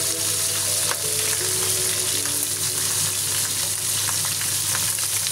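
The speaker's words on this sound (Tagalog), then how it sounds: "Ayan, i-fry na natin siya." Fish head, bones included, frying in hot oil for a Chinese-style dish, giving a loud, steady, dense sizzle with soft crackles throughout and no talking.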